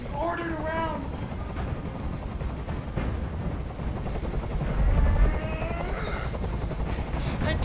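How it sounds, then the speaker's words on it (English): Helicopter in the Detroit: Become Human video game, a continuous loud rotor drone with a rumbling low end that swells near the middle, while voices talk over it. "Tell that helicopter to get out of here!"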